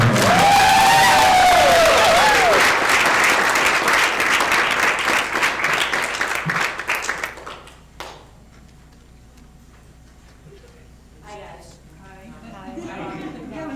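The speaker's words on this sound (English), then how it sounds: "An absolutely huge ovation. Big round of applause for the divine Miss M." Audience applause and cheering for a psychic medium at a live reading event, loud and sustained for about seven seconds before dropping away, with a voice over the start and quieter talk and rustling afterward.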